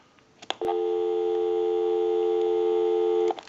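Steady continuous dial tone from a Western Electric Trimline wall telephone, loud and unbroken for about three seconds after a couple of brief clicks as the line opens.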